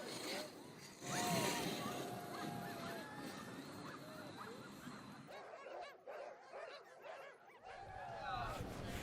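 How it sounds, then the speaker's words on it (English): Sled dogs yap and bark excitedly before the start of the Kusko 300 sled dog race, a dense chorus of many barks and yips close by, with people talking under and through the noise. "You just got to hear the dogs yapping for a little bit because they're so excited to get out on the trail."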